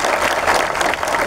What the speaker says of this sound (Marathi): इथपर्यंत त्यांच्यासाठी जोरदार टाळ्या झाल्या पाहिजे.